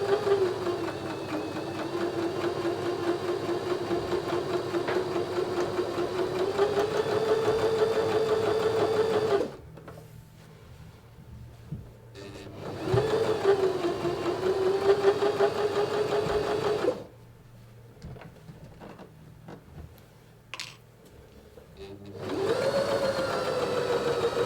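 A sewing machine sews a French seam on an apron, running steadily in three separate bursts with quiet pauses between them, close and moderately loud.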